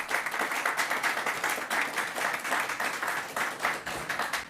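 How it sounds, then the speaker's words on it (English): A room at a New York governor's COVID briefing applauds the mayor, a steady patter of many hands clapping at moderate distance throughout. "Let's give the mayor a round of applause."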